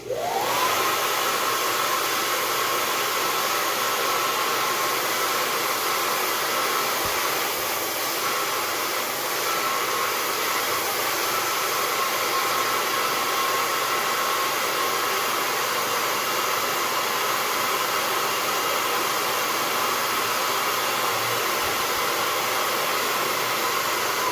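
A hair dryer runs on its low temperature setting, blowing a steady, loud broadband whoosh with a faint whine that holds constant throughout, with no talking.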